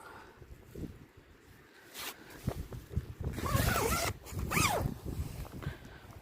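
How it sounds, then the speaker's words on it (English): A two-way zip on a Vango Hydra 200 tent in wet, windy weather, pulled in a few quick rasping zips, close and fairly loud against a soft background rustle. "Two-way zips."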